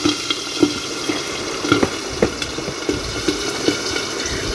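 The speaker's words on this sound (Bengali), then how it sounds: "পাবদা মাছ তেলে দিলেই গরম তেলে দিলে একদম ফটফট করে ফেটে" Pabda fish sizzles steadily in hot oil, with sharp crackling pops bursting out irregularly throughout.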